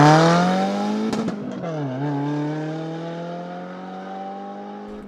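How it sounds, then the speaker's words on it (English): A 2016 Subaru WRX tuned to Cobb Stage 2+ with a J-pipe and catback exhaust passes loudly, its engine note sharp and tonal, dropping abruptly as it passes and then holding a steady, fading drone. "I think this car sounds great."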